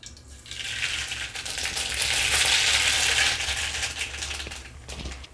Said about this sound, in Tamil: எண்ணெய் காயட்டும் கடுகு போட்டுடலாம்